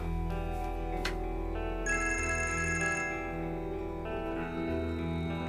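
A mobile phone ringtone plays as a steady melodic electronic tune. It rings on through the whole stretch, clear and fairly close, with a brighter high-pitched segment partway through and no talking over it.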